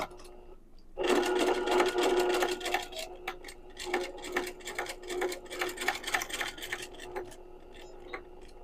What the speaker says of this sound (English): you're just going to stitch right along the edge of that stabilizer